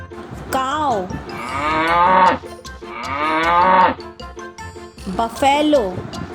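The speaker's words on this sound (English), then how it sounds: "cow" Cow mooing in three long, loud, close calls with rising and falling pitch, separated by short pauses.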